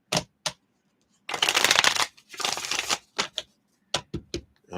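Tarot-style playing cards shuffled by hand: a few sharp snaps, then two long riffling bursts and a run of quick card taps and slaps, close and clear, with no talking over them.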